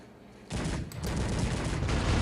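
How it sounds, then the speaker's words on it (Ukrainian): After a brief lull, dense rapid fire from about a hundred cannons in Cossacks 3 erupts and keeps going, a loud overlapping barrage of booms with no let-up. "Подивіться, як навалюють сотня гармат."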